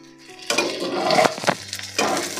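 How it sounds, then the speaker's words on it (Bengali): Drained soaked rice hits a hot pan with oil and starts frying, giving a sudden broad sizzle with spoon scrapes and clinks against the pan, loud and close. "এবার গ্যাসের ফ্লেমটা হালকা একটু বাড়িয়ে আমরা ভেজে নেব চালটাও"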